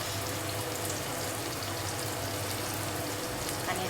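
Soybean vegetable sautés in a pan with about two spoons of oil. A dense, even sizzle holds steady at close range for the whole stretch, with no talk and no distinct stirring strokes.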